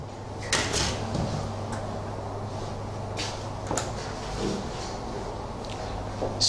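An automatic egg incubator in a hatchery being opened, with a few soft door-like clunks and clicks over a steady low machine hum.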